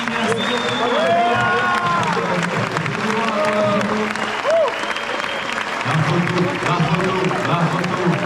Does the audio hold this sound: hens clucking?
no